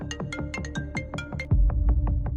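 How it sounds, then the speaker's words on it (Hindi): A phone ringtone plays a repeating melodic pattern of quick tones, with a deep bass beat joining halfway through. "करण का फोन"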